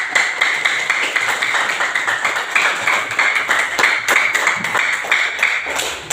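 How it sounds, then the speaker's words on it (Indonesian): Classroom of students clapping hands together, a loud, continuous rapid patter of many close hands lasting several seconds with no talk over it. "Tepuk tangan."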